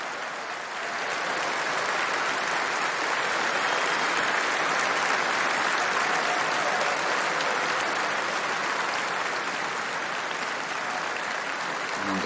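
A large outdoor crowd at King Charles III's proclamation in the City of London applauds and cheers in a loud, steady, continuous roar that lasts about twelve seconds.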